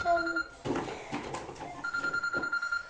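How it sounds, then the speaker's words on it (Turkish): A telephone rings with repeated electronic trills, broken by rustling and clattering noises in a room. "Telefon çalıyor beyler."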